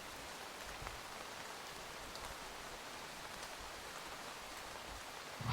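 Steady, dense rain in a video game, a continuous even hiss of drops falling on surfaces throughout with no voices.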